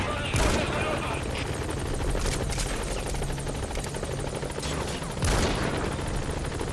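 Helicopter rotor chop from the Metal Gear Solid V: The Phantom Pain video game drones steadily throughout, with bursts of gunfire cracking in near the start, around two seconds and again near five seconds. Talk and radio chatter run over it.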